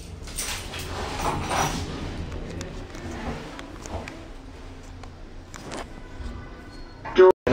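Lift doors slide shut in a Maidenhead building, a rumbling mechanical slide followed by a thud, heard at close range. Faint background noise from the lift car runs underneath.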